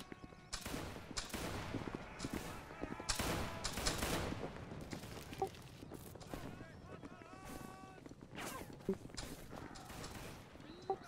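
Musket volley fire in the Napoleonic line-battle game Holdfast, with scattered rifle cracks and bursts from a formed infantry line, some near and sharp, others distant, over constant battlefield noise and shouting voices.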